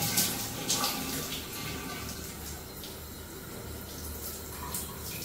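Water runs steadily from a tap or shower while a dog is bathed, a continuous splashing hiss with a few brighter bursts, close and moderately loud with no speech.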